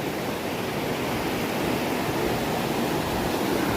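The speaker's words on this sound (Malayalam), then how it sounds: "ഇത്രയും ഒഴുക്കുള്ള പുഴയിലാണ് ഇവിടെ അമ്മയും അച്ചായും തുണി കഴുകുന്നത്" A fast-flowing river at Mullaperiyar where clothes are washed, a dense, even roar of rushing water, loud and unbroken throughout.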